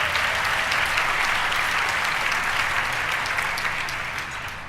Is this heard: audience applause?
yes